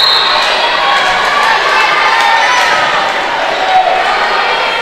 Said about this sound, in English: Crowd is really getting into it.